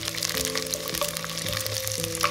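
Whole garlic cloves, shallots and ginger slices stir-frying in hot oil in a pot, a dense steady sizzle with small crackles and a tonal metallic ring, close and continuous without speech.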